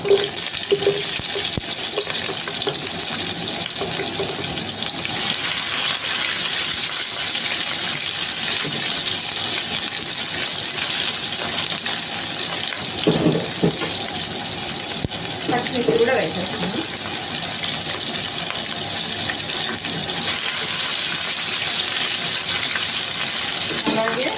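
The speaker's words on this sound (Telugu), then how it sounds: "ఇప్పుడు మనం ఈ లైట్గా ఫ్రై చేస్తున్నాం ఇప్పుడు ఆనియన్స్ వేస్తున్నాం" Onions lightly frying in oil in a pan for chicken pulao after a pinch of shahi jeera, a steady continuous sizzle with some stirring scrapes, close and fairly loud throughout.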